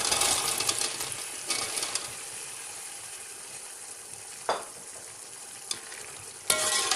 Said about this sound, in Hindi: इस स्टेज पे मैं इसके अंदर अपने चने ऐड कर रही हूँ।